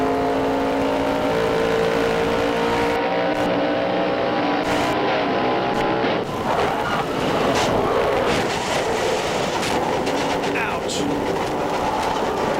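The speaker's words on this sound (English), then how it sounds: "Now we're going to take you inside Todd Bodine's car and give you his view as they come off of turn 2." Onboard engine roar of a 1997 NASCAR Busch Grand National race car exiting turn 2 at Rockingham, a loud, sustained drone with shifting pitch and rumble throughout.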